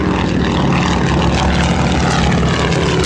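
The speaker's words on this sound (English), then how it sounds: "Correction, PT-23 without the canopy, having a radial engine." A PT-23 primary trainer from the early 1940s, open cockpit with no canopy and a radial engine, flies by at a World War II Weekend airshow, its propeller drone loud, close and continuous.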